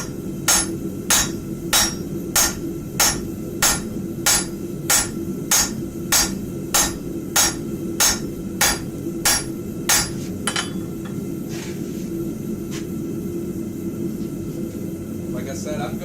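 Blacksmith hammering steel thin at a forge: a steady series of about eighteen evenly spaced ringing hammer blows over a low rumble of shop noise, then quieter clinks as the blows stop.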